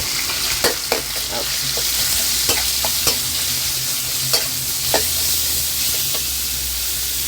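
Minced pork with garlic stir-fried in a hot pan: a steady sizzle with repeated sharp scrapes and taps of the spatula against the pan, close and clear, no talking.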